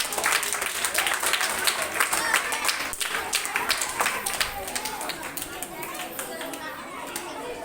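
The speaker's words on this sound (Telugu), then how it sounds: "అందరూ పిల్లలందరూ చప్పట్లతో ఆహ్వానించండి" Children clap to welcome a prize giver at a VBS prize-giving program. The clapping is lively and irregular, with chatter and voices mixed throughout.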